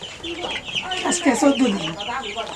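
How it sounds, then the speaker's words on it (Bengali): Young chickens, about two weeks old, clucking close by in a short burst of soft, rising clucks, with voices talking faintly in the background. "মুরগি তো ভালোই বড় হয়ে গেছে।"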